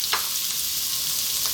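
Ginger drops into a pan with a little hot oil and sizzles in a steady, bright hiss, with a couple of brief sharper crackles as pieces hit the pan.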